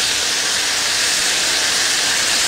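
Pork kidney, washed repeatedly in vinegar, hits a hot wok and sizzles loudly, a steady broadband hiss that stays constant throughout with no talk over it.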